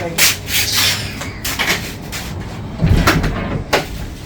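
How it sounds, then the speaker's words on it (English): A door is pushed shut and locked in a home, with several knocks, rubs and a latch-like clatter spread irregularly over a few seconds, fairly close, amid muffled background activity. "I'm going to lock my door"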